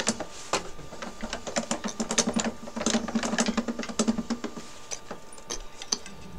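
A hand-cranked pasta maker rolls very thick dough, giving a close run of rapid mechanical clicks and ticks from its gears that keep up a steady rhythm for several seconds.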